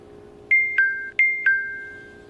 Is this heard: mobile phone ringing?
yes